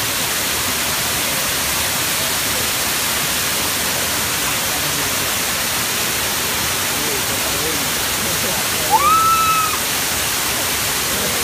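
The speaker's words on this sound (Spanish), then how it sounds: "Aquí viene un viento con agua, con unas gotas de agua." Roaring wind and blown water spray at a large waterfall in Japan, a loud, steady hiss that fills the whole clip with only one brief higher tone near the end.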